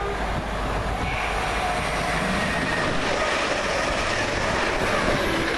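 A train passes through Warrington station with a loud continuous rumble and hiss of wheels on rails. It stays steady and close throughout, with no talking.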